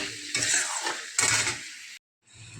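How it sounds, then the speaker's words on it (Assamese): Chicken pieces in Kashmiri chilli masala fry in a pan and are stirred in two loud bursts of sizzling and scraping, followed by a short silence and then a softer sizzle. "এতিয়া ভালদৰে ভাজি লওঁ"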